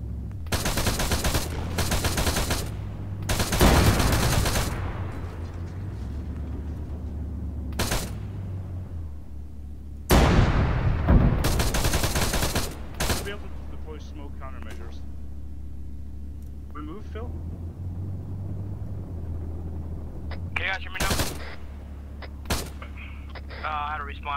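Arma 3 tank-battle gunfire crackles in loud, sharp bursts and single shots, with heavy rattling volleys spread through a low engine rumble while players talk over comms.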